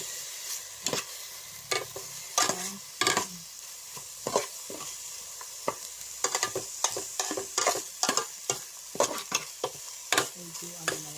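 Lemongrass, garlic, ginger and onion sauté in a pan, a steady sizzle punctuated by frequent loud, sharp stirring clacks and scrapes in close succession.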